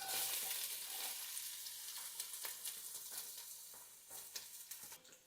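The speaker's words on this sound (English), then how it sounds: "You're going to saute for about 5 minutes or until the onions are soft and golden." Chopped onions sauté in olive oil and butter in a pan over medium heat, giving a faint, steady sizzle with occasional soft stirring clicks and scrapes and no voices.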